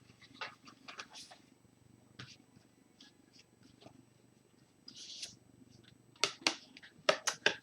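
Tarot cards shuffled and fanned out by hand, heard as soft papery rustles with sharper riffling bursts near the end, close and fairly quiet.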